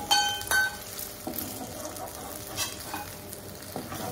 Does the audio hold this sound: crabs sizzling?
yes